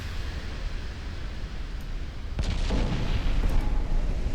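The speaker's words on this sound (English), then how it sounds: "the other problem with having that many turrets is they might just explode on you" Turrets exploding on a ship in a Scandinavian naval strategy video game, a dense roaring rumble that swells into a louder, harsher burst partway through and keeps booming to the end.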